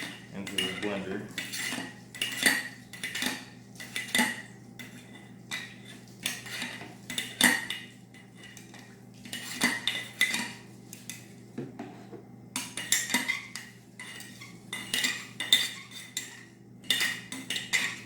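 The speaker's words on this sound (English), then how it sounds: "I want to pour more of this alcohol in here. And continue to get the rest of this garlic into the blender." Metal utensils clink and scrape against a glass blender jar while garlic and alcohol are worked in for a garlic fish attractant, a busy run of close, irregular clatters and taps with no talking.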